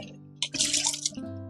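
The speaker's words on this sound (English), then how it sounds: "Beware of water sounds." Water runs briefly from a tap during home baking, a short splashing burst that rises and then cuts off.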